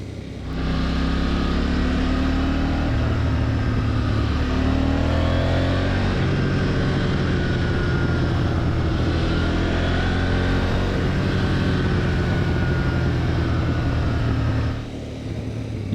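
A 2025 Husqvarna Vitpilen 801 motorcycle exhaust drones loudly and steadily while riding, with the engine note shifting as it pulls and eases through the run, then dropping off near the end, with no talk.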